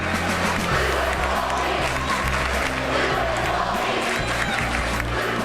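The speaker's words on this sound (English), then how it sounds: "That's when the crowd began to chant." A packed high school gym crowd chants loudly and rhythmically during a tight state semifinal basketball game, a dense wall of voices with shouts and cheering mixed in throughout.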